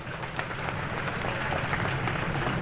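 Steady, loud applause fills the hall at a Karachi mushaira poetry gathering, a dense wash of many hands clapping without pause.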